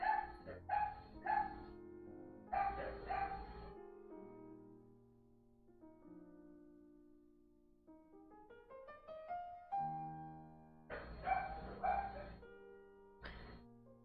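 Several dogs bark in short bursts, a cluster of sharp yaps at the start, a drawn-out whine or howl in the middle, then more barking at the end, close and loud, with no speech.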